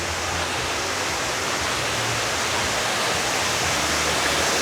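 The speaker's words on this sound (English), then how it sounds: "Love a good waterfall over a cave." A resort waterfall at the Westin Nusa Dua in Bali pours over a cave, giving a close, loud, unbroken wash of falling water that holds steady throughout with nothing else heard.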